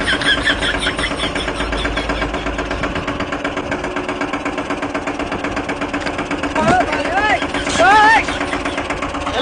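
A new tractor's engine runs with a steady, close mechanical chug throughout, while people talk loudly over it.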